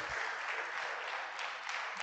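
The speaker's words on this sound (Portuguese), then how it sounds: "Aplaude o Senhor Jesus." Church congregation applauding together in a sustained, dense wash of clapping that holds steady and fairly loud throughout, with no talk over it.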